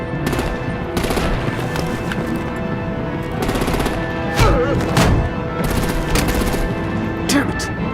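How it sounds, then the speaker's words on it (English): Rapid artillery and machine-gun fire rattles through a combat scene in Batman: The Enemy Within, with bursts and heavy thuds layered over a dense, continuous battle din. "Break out the artillery and disable their vehicles!"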